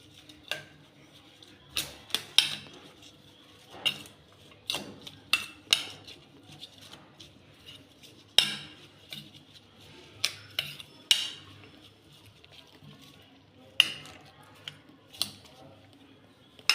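A spoon clinks and scrapes against a bowl while a vegetable sandwich filling with salt is mixed: sharp, irregular metallic taps close by, separated by quiet gaps, with faint background sounds.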